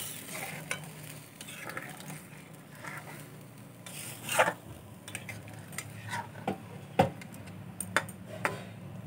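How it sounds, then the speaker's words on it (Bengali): A spoon stirs boiled potato curry in a pot with a little water, scraping and clinking against the metal in irregular strokes. Soft sizzling runs underneath, and a few sharper taps stand out near the end. "খুব ভালো করে মিশিয়ে দেব।"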